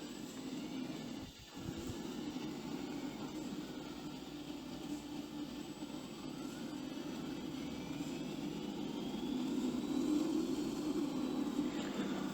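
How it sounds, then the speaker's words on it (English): A tuned Hustang car engine held on a dyno in Car Mechanic Simulator, a steady, droning roar that slowly builds in loudness toward the end, with no voices. "we're going to set this up in the dyno and see what we got on power"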